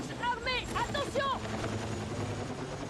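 Helicopter rotor drone in Battlefield 6, passing overhead, steady and fairly loud, with chirpy synthetic effects sweeping over it early on.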